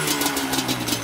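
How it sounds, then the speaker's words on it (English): A Yamaha Banshee ATV two-stroke engine with freshly matched carburetors idles close by, a steady, even, buzzing putter with no talking. "The carburetors are set up exactly alike. They're perfect. It idles perfectly."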